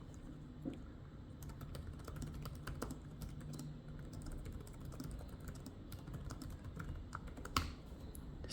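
Soft, steady typing on a Dell G16 7620 laptop keyboard, a continuous patter of light key clicks with an occasional louder tap, close and quiet.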